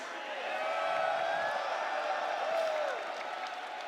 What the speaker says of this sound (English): Crowd, who likes Kakeru to take down this set?